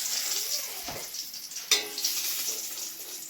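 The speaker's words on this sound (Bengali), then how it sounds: "ওই তেলটার মধ্যেই আমি একটা শুকনো লঙ্কা, দারচিনি, ছোট এলাচ আর দুটো লবঙ্গ দিয়ে দিলাম।" Dry chili, cinnamon, cardamom and cloves crackle and sizzle in hot oil left after frying katla fish, a steady close hiss with a sharper burst of spattering midway.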